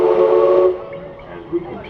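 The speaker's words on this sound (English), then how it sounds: "go ahead and blow the whistle again 2 times" Steam whistle of Disneyland's Mark Twain Riverboat sounds one loud, sustained, close blast that cuts off and leaves a low hiss, with a faint short toot near the end.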